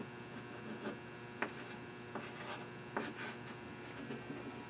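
Pen or marker scratching out a column vector on a board or paper in a quiet room, with a few short strokes and taps standing out faintly above a low steady hum.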